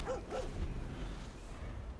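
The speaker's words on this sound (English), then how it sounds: "He goes, ruff, ruff." Two short synthetic barks from the Puppy Dog card in the digital card game MTG Arena, a quick pair at the start, then fading into low background hum.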